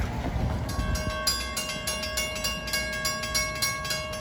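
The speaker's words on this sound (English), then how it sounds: "you should have another equipment train, the KOJ 835" An equipment train rolls past a level crossing, steady wheel rumble and rhythmic clicking over rail joints under the constant clang of crossing bells, heard from close by.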